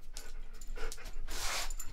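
A five-month-old puppy pants in quick, breathy bursts with a brief whimper, close and fairly soft, no talking.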